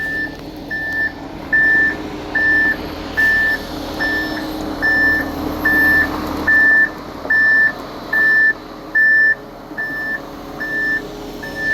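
A concrete truck reversing up a long driveway: about a dozen loud, evenly spaced reversing beeps sound over a low diesel rumble, with no talking.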